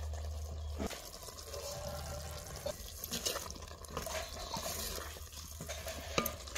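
Eggplant and potato curry simmering in a pan after hot water is poured in, a quiet bubbling sizzle with scattered stirring clinks and soft scrapes, low hum at the start.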